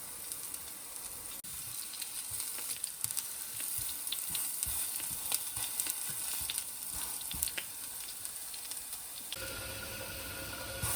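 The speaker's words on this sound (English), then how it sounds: "So just grill them at highest heat and about 3 to 4 minutes for each side." Eggplant slices grill in a pan over the highest heat, giving a close, steady sizzle and hiss that runs without a break, with a small crackle now and then and no voices.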